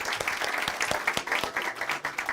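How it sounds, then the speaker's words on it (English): An audience at a school showcase event applauds the staff with continuous, moderately loud clapping. Individual sharp claps stand out from the steady crowd applause. "Can I have an applause for the staff, by the way?"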